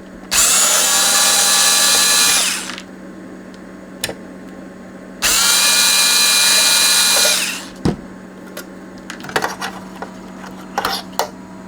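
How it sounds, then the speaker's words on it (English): A power driver whirs in two sustained bursts of about two and a half seconds each while unscrewing an FM tuner module from a GIGA JUKE jukebox, followed by scattered clicks and rattles of small parts being handled nearby. "So I'm going to unscrew the FM tuner module."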